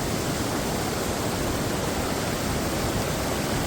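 Water rushes loudly and steadily down a small falls in Coorg, a dense broadband roar that fills the whole moment with no pauses and no voices.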